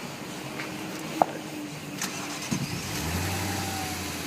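A 2004 Audi S4 V8 with a Milltek exhaust cranks over and fires up, settling into a low, steady idle rumble after a few quiet clicks.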